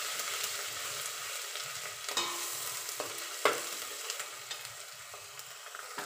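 Onion gravy for pav bhaji frying in a pan, a continuous soft sizzle with spoon strokes scraping and stirring, a few sharper taps and clinks along the way, fairly quiet and steady with no voices.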